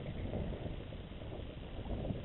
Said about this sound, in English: And a little gust comes through then.